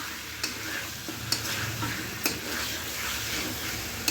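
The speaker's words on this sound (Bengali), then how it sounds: "আরো কষতে হবে, একটু কষানো হোক" Methi chicken sautéing in a pan with a steady close sizzle and scraping stir strokes, sharp spoon clicks recurring about once a second, with no voices.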